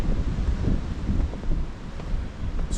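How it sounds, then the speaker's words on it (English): Steady, heavy wind buffeting outdoors on a stormy winter day at West Loon Lake, a continuous low rumbling roar with gusty swells and no voices. "she's a windy, blustery, stormy day at West Loon Lake"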